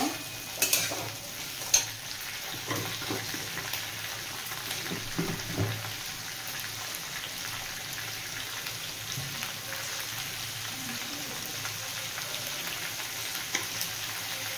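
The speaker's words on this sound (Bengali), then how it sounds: "আবারও ভালোভাবে মিশিয়ে নেব" Potatoes and yardlong beans with salt stirred in a hot pan, a steady sizzle and fry under scraping spoon strokes, with a few louder knocks near the start.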